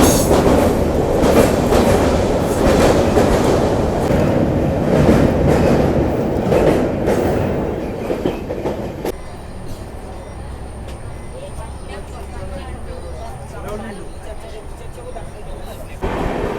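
Amrit Bharat Express train running from Sealdah to Banaras, heard from on board as a loud steady rumble and clatter of wheels on rails, easing to a quieter rolling hum partway through, with a faint high whine.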